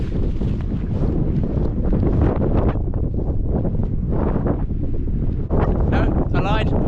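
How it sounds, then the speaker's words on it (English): Strong wind blows across open hilltop ground at Devil's Dyke on the South Downs, buffeting the microphone with a loud, steady, gusty roar that fills the whole stretch without letting up. "The wind is back and so is the freezing cold"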